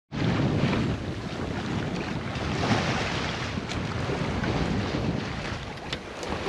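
A sailboat under way at about 4 knots off Newfoundland, heard as a continuous rush of wind buffeting the microphone and water washing past the hull, steady and loud with no talk.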